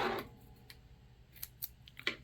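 Scissors snip through a thick paper embellishment in a few short, crisp, close cuts, separated by quiet pauses.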